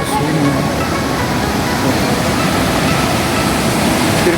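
Glacial meltwater from the Bagini Glacier near Dronagiri village rushes past in a loud, constant, broadband roar with no breaks, heard up close and with no voices.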